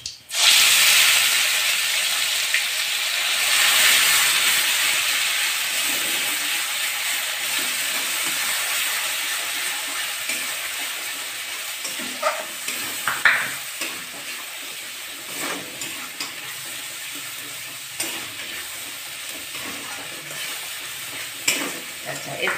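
Ginger, garlic, onion and tomato paste frying in oil in a pan for shahi paneer, a loud steady sizzle with occasional stirring scrapes and clinks, no talking.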